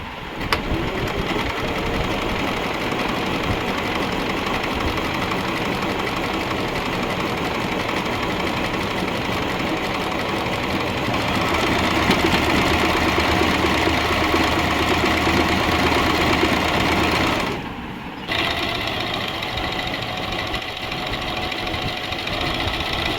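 An Usha Janome Stitch Magic sewing machine runs steadily and loudly while sewing a picot edge on fabric, a continuous motorized whirr with a brief pause near the end before it resumes; no talking.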